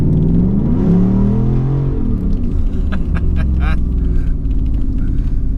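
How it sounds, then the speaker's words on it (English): A Ford F-150 pickup with a Borla Atak exhaust rumbles deep and loud, revving up with a rising growl that then settles into a throaty idle. "This Borla Atak system on this F-150 makes the truck just scream"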